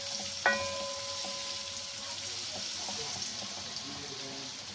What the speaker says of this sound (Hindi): देखिए मसाला हमारा भून रहा है मज़ेदार सा